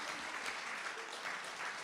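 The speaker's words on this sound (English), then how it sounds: "One more round of applause for Mr. Virtual Morel." Audience applause at a live event at a freedom center, a dense, even spatter of clapping heard from a distance at low level, unbroken for a couple of seconds.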